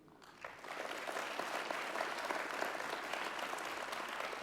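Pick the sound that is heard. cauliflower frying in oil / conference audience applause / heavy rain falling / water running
conference audience applause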